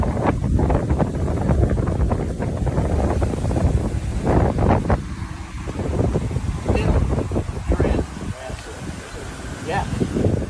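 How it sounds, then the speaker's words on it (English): Strong wind buffets an outdoor microphone, a loud, continuous low rumble with gusty surges throughout, while a person talks intermittently underneath. "It's freaking windy."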